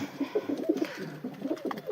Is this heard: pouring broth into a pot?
no